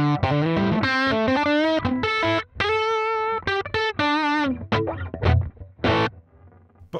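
An electric guitar through a basic amp model on a NUX Trident plays a distorted, sustained melodic line of held notes and slides, loud and close with no talk.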